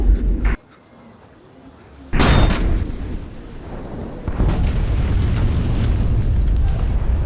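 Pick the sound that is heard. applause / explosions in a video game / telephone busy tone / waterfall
explosions in a video game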